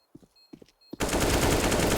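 Rapid automatic gunfire from Counter-Strike on the Nuke map, during a competitive league match, erupts loud and sustained after a few faint clicks and thuds.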